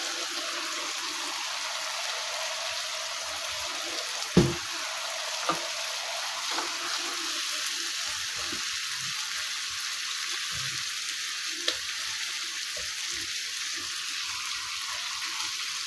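Chicken pieces and mashed tomatoes fry in oil in a karahi over medium heat, a steady soft sizzle with a few brief clinks and stirring knocks, no talking.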